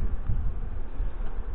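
Honey bees at a hive opened for a May inspection, crowding around the queen, making a steady low buzz that fills the space continuously and fairly close, with no voices.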